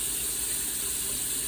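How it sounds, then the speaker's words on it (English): Steady stream of water running from a faucet, a continuous close hiss with no breaks. "just to suck in the water as it's dripping out of the faucet."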